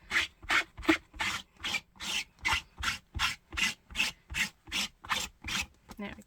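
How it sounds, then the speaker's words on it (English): A rubber stamp is wiped clean with about a dozen quick, even back-and-forth strokes, each a harsh, squeaky rasping rub heard up close, with a brief voice at the end. "wipe my stamp clean before popping that away"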